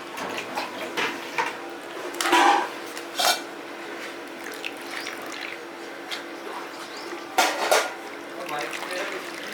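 Chopped taro is washed by hand in water in a metal bowl, with sloshing and splashing plus a few clanks of the vessel, and a person speaks in the background.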